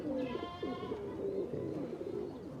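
Pigeons of the Goira Ratta breed, kept as a pair from Bhucho, cooing close by in soft repeated low calls that run through most of the stretch, with a faint higher whistling tone early on.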